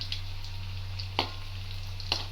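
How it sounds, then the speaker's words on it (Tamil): A chapati roll deep frying in oil, a low steady bubbling hiss with a few sharp pops and crackles, fairly quiet, no speech. "நல்லா கிரான்ச்சியாக பொரிச்சு எடுக்கணும்"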